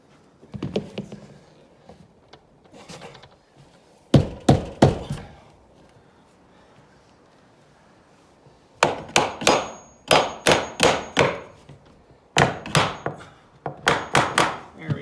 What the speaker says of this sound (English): So sometimes just tapping on the hinges will do that.